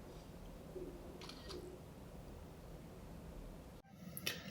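Camera shutter on a Blackview A100 smartphone as a selfie is taken, a brief clicking sound near the end after a few seconds of quiet room noise.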